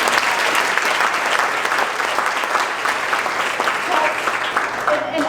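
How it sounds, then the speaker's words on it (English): Sustained, dense applause from a large audience at an All About the Girls event honoring a group of women, loud and steady throughout with a continuous wash of many hands clapping. "let's give another round of applause to Jenny and her team"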